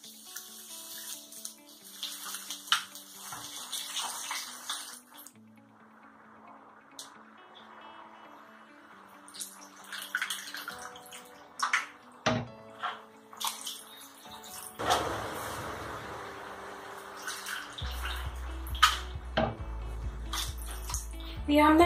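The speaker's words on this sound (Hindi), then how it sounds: "तो अब इसमें हम पानी डालेंगे।" Water splashes and pours steadily into a kadhai of spiced white pea chole for a few seconds, loud and close, amid kitchen clatter and a few clinks.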